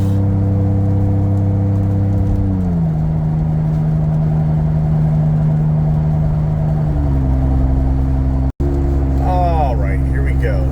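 A Ford Bronco towing a 3,500–3,700 lb trailer drones loudly at highway speed, its engine note stepping down and shifting as gears change, with a brief dropout near the end before the steady rumble resumes.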